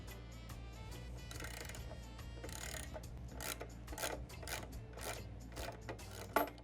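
Rhythmic mechanical clicking and ratcheting as a jack works to lift a 2003 Harley-Davidson motorcycle, with a low steady hum beneath and repeated close metallic ticks, ending in a sharper clack.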